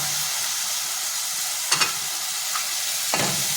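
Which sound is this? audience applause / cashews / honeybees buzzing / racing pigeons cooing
cashews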